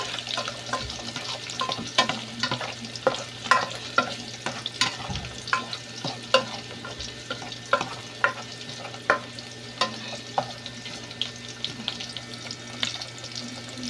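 Garlic and onion frying until brown, with a steady low sizzle under frequent light scraping and tapping strokes of a utensil against the pan, close by and fairly quiet.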